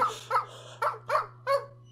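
A person's voice imitates a dog barking, with five short, yappy barks in an uneven rhythm, close and clear over a low steady hum.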